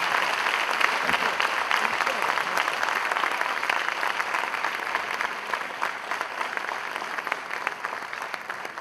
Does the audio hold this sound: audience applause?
yes